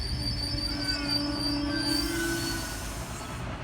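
Sydney Trains Oscar H-set electric trains H46 and H37 roll past at a station, a loud steady rumble with a high metallic wheel squeal that holds for a couple of seconds before fading slightly, no voices.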